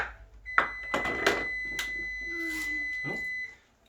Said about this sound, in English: that's the timer on our potatoes